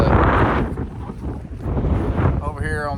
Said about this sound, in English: I told you it was windy out here.